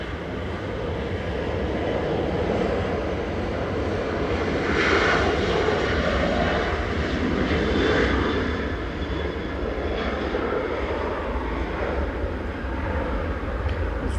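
Ryanair Boeing 737-800 departing Manchester Airport for Verona, a sustained rumbling jet roar in the background that builds slightly around the middle, then holds steady and fairly loud.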